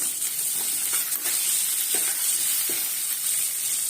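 Chopped onions for ragi upma sizzle and crackle steadily in hot oil in a pan, a bright continuous frying hiss with occasional stirring scrapes, close and alone.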